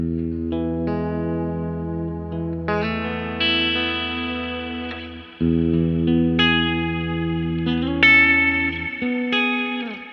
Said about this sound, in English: It's a Boss reverb pedal. I use it pretty much just for one setting. It's called the modulate setting.